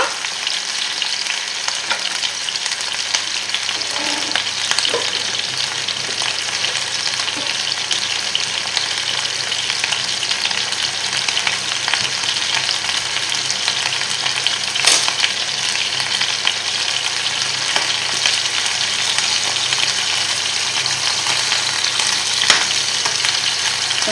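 Veal paupiettes fry in a pan with a steady, dense sizzle and crackle, close and loud throughout, with occasional scraping and clinks as they are moved around.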